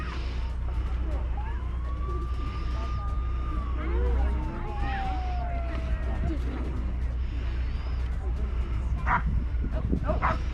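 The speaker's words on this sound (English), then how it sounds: "So when he finds a person, he's going to bark and alert." A police K-9 dog barks at a National Night Out demonstration, giving several sharp barks under nearby talk, with a thin whistle-like tone rising and falling in the background.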